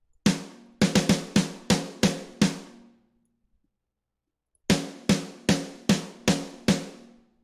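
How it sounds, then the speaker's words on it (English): A Tama Bell Brass snare drum from a hard rock kit, struck in two bursts of about seven crisp, ringing hits each with a short pause between, loud and dry with no voices. "the snare used, which was the legendary Tama Bell Brass, which sounds like this."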